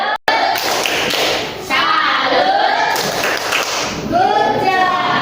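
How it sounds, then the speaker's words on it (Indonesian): Classroom pupils do a patterned salute clap, loud taps and thumps in rhythm with children's voices chanting along over them. "Ya tepuk salut."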